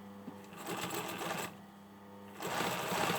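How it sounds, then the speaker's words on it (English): A sewing machine stitches the hem of a hoodie sleeve cuff, sewn in a full circle along the existing stitching line. Two steady running bursts come with a quieter pause between them. "I'm lining up the existing stitching"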